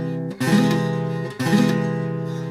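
An acoustic guitar chord is strummed twice with a finger obstructing one string, each strum ringing loud and close before decaying, with no voice over it.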